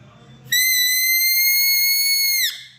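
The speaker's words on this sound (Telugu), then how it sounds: "ఇది ఫ్లవర్ నట్టే ఉంది కానీ ఇది ఫ్లవర్ కాదు, ఇది ఒక విజిల్." A flower-shaped toy whistle blown once in a steady, shrill tone that lasts about two seconds, then cuts off abruptly, loud and close against a quiet background.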